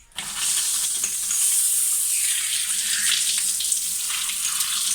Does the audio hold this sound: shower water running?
yes